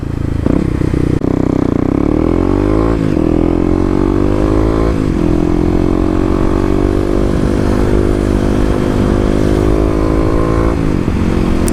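A Kawasaki KLX250 dual sport motorcycle rides along a road, its single-cylinder engine droning loudly and steadily with rising and falling revs as it shifts, plus wind rush and some rattle, heard from the rider's position without speech.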